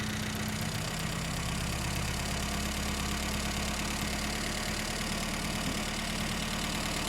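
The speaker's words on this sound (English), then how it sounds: "that's the first time this engine's ran in 12 years" A 1975 Mini Clubman estate engine idles steadily up close after first starting in 12 years, a low rough rumble with a constant even beat and no talking.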